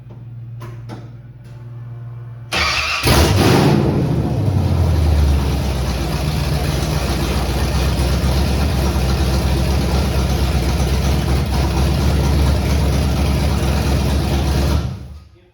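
A Ford 351 Windsor V8 with no accelerator pedal and a suspected missing rear main seal cranks briefly, fires up loudly and settles into a steady, even idle that runs on alone until it cuts off at the end.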